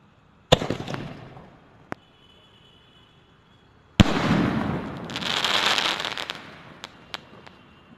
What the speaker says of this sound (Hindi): इसको जला के देखते हैं हमारा ये स्काई शॉट कैसा फटता है।